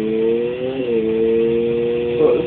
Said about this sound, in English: It's a peewee bike.